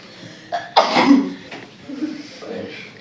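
A person coughs a few times close by, harsh throaty bursts with a brief throat-clearing rasp, amid quiet indoor background and a hint of speech.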